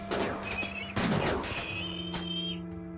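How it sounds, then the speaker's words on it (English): RimWorld base turrets fire on raiders in a burst of crackling shots and impacts, loud and close, with a second sharp burst midway and a tonal game hum underneath before it fades out. "the turrets won't shoot at the ship, they will only shoot at these guys"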